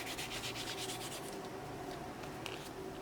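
A lint-free wipe soaked in alcohol is rubbed over fingernails in quick, soft, repeated scrubbing strokes, close and faint, with no talking.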